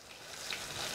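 Plantain slices fry in a pan with a steady, close, even sizzle and crackle, and no voices are heard.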